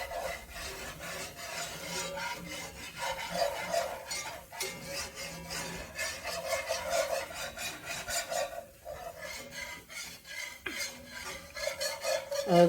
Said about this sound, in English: And we just stir this all in.